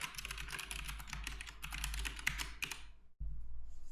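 Fingers type code on a computer keyboard in a fast run of close, soft clicks, then pause briefly before the keystrokes resume; no voices.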